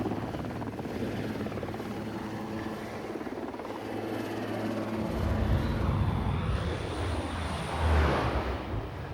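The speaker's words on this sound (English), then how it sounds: "They really do have amphibious helicopters." A helicopter's rotor thrums steadily, a low chopping drone that swells louder toward the end.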